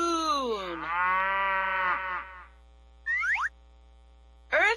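A cartoon cow moos once from a children's Mickey Mouse Clubhouse sound storybook, a long loud bellow lasting about two seconds, then two short springy boing-like effects a moment apart, with no talking.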